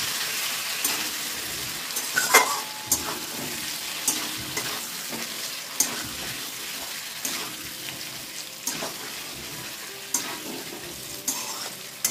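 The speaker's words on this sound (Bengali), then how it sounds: "আলুগুলো মোটামুটি কষানো হয়ে গেছে" Potatoes frying in a pan, a continuous close sizzle punctuated by regular scraping stir strokes and occasional clanks of the utensil, with no talking.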